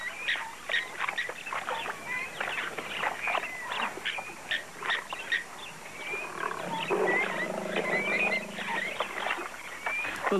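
Eight male lions attack two buffalo cows trapped in mud in the wild, with growls and grunting snarls in irregular bursts, a longer rumbling growl near the end, and scattered bird calls in the background.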